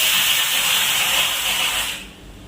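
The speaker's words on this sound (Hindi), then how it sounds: "कुकर में सीटियां लग रही है क्योंकि जिजी जैक के चावल बन रहे हैं।" A pressure cooker whistles in a home kitchen while rice cooks, giving a loud, steady steam hiss that holds for about two seconds and then drops away.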